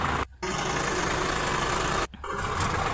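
A farm tractor engine runs steadily in the field after crop spraying, a continuous loud rumble with two brief dips in level.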